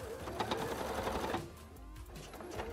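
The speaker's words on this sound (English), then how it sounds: "I'm just sewing it in a slightly unusual order" A sewing machine runs steadily, stitching scales and fins onto a costume wing, a loud continuous mechanical whir with rapid needle clatter that slows and drops briefly near the end.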